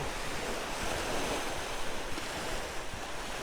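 Waves wash at the shoreline of Lake Huron, a steady broad roar of surf mixed with wind buffeting the microphone, continuous and without speech.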